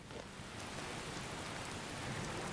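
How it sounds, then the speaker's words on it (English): Steady rain pours continuously in Dragon Age: Inquisition, a dense, even hiss of falling drops with no pauses and no voices over it. "Right, let's turn the rain off."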